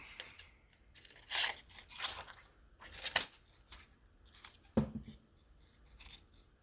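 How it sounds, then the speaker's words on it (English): Scissors snip through paper while cutting out journal ephemera, a handful of separate crisp cuts and rustles spaced irregularly, quiet and close with no talking. "And we'll cut it out."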